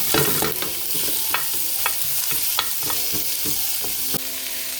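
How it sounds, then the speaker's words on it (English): Sliced scallop squash sizzles steadily in a hot pan while a utensil stirs it, producing repeated close clicks and scrapes against the metal over a constant bright frying hiss. "Stir it up"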